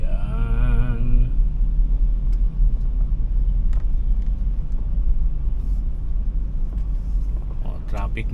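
Steady traffic rumble on North Ave, heard from inside a car, forms a constant low drone of engines and road noise throughout, with faint passing sounds and a brief tonal whine near the start.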